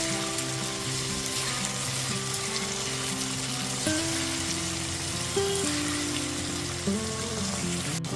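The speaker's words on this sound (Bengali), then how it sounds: "এরপর এতে একটা টমেটো বাটা দিয়ে দিচ্ছি। টমেটো বাটাটা দিয়ে দেওয়ার পর খুব ভালো মতো একটুখানি কষিয়ে নেব।" Tomato paste frying in a hot pan for Bengali chicken kosha curry, a steady close sizzle and crackle with occasional stirring scrapes, no talk.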